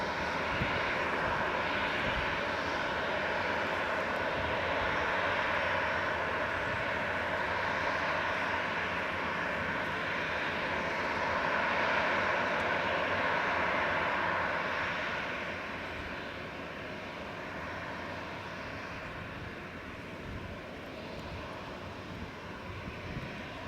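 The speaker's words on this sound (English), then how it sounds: "There's the other Jet2 coming folks. From Turkey." A Jet2 airliner arriving from Turkey approaches Leeds Bradford Airport, its engines a steady broad roar that builds, holds strong, then eases off toward the end.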